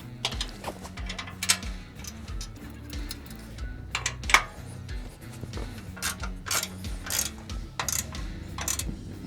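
A ratchet clicks in quick bursts while tightening the bolts of Vance and Hines Twin Slash 3-inch slip-on exhausts on a Harley Iron 883, close and clear with short pauses between runs and no talk.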